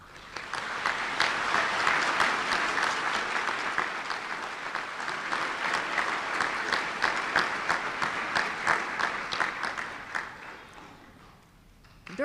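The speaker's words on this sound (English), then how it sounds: "I think you deserve a round of applause" An audience at a spring college graduation ceremony at Blue Ridge Community College claps in sustained, even applause for about ten seconds before it fades away.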